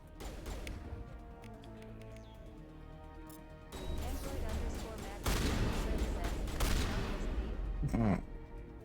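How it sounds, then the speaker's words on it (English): Enemy energy-ball shots and impacts in a Mass Effect battle: bursts of crashing, blasting fire that swell and intensify toward the end, loud and layered with game music and effects. "She's shooting energy balls at us."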